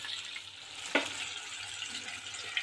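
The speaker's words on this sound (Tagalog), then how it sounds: "pagkatapos ng prito ako ng 2 isda" Soft, steady sizzling of two fish frying in oil, with a couple of faint pops and clinks from a utensil, quiet and close.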